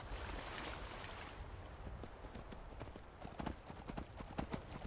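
Horse hooves clip-clop steadily in the Skyrim video game, a continuous close patter over a low rumbling bed, growing sharper and more pronounced toward the end with no voices.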